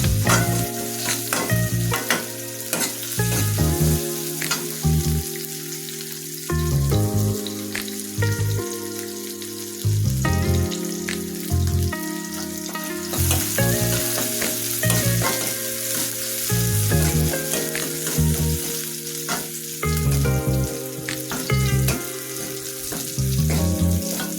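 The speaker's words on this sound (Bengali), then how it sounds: "লাল লাল করে ভেজে নিব আমি" Food being fried until reddish-brown crackles and sizzles steadily in a pan, with repeated stirring strokes and a rhythmic low clatter running through, loud and close without voices.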